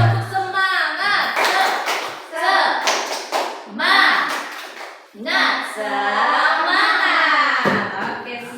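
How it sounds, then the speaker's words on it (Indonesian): Schoolchildren in a classroom doing a rhythmic group clapping chant, bursts of patterned claps from the whole class interspersed with loud voices calling out together. "Tepuk semangat."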